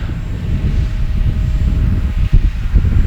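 A Freewing Vulcan 6S RC jet taking off and climbing steeply, its loud, steady electric ducted-fan roar filling the air continuously with a brief dip partway through.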